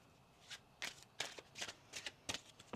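Tarot cards are shuffled in a quiet room, about eight soft, crisp riffling bursts in quick irregular succession, close and faint, with no talk.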